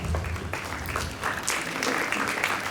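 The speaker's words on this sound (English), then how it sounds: "A big cheers and applause for yourself." At a kindergarten annual day celebration, parents and teachers clap in a fairly quiet, steady spread of applause, with scattered sharper claps standing out and no talk over it.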